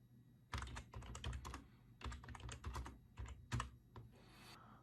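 Rapid clattering keystrokes on a computer keyboard come in several quick bursts with short pauses, close and fairly quiet, with no voices.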